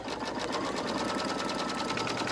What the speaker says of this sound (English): it's just going to stitch that on